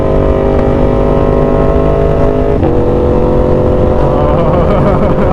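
A car with a new aftermarket exhaust idles loudly up close with a deep, rumbling exhaust, briefly blipping the throttle midway before settling back to a steady growl.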